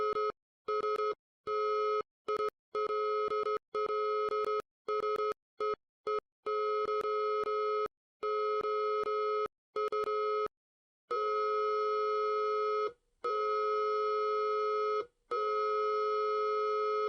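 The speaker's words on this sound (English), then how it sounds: "The Morse code playing here translates to, I still see you." Steady tonal beeps in an analog horror piece, sounding as Morse-style on-off bursts of varying length, irregular at first and then longer continuous tones, loud and alone with brief silent gaps.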